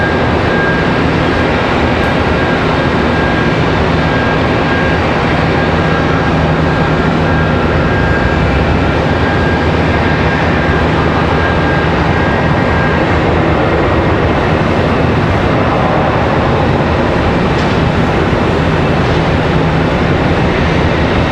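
Jet airliner taking off from the runway at Charlotte Douglas International Airport, a loud sustained engine roar that holds steady throughout, heard from nearby without talk.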